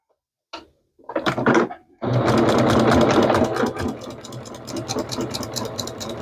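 A sewing machine stitches a straight line on a quilt after a couple of short starts, then runs in a loud, rapid, steady ticking whir up close that eases slightly toward the end.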